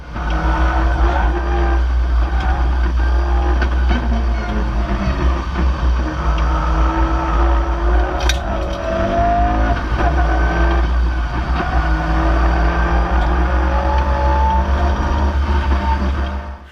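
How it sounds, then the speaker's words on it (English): A Mitsubishi Lancer Evolution 8 driven hard through corners, its engine droning loud and constant from inside the car, with tire noise and rising and falling revs throughout. "I'll post a clip right here to show you what kind of cornering I could do with the Evo."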